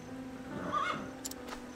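A horse in the video game Octopath Traveler 2 lets out a short whinny that rises and wavers, fairly quiet, followed by a couple of clip-clop hoof taps over faint background ambience.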